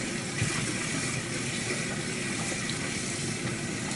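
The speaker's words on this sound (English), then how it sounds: "Let's get a little cold water in there." Cold tap water runs steadily into a soapy kitchen sink, a constant close hiss and gurgle with no voices.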